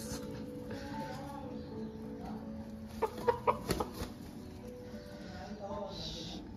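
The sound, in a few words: fighter rooster clucking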